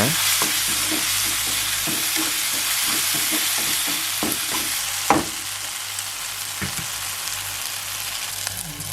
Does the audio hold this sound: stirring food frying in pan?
yes